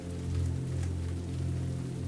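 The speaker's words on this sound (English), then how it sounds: "You enjoy the melodic rain as you surrender to rest." Gentle rain falls steadily on a surface in a quiet, sleepy setting near an Irish Christmas market, a soft even patter at low level with no voices.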